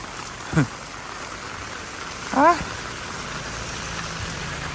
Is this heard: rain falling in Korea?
yes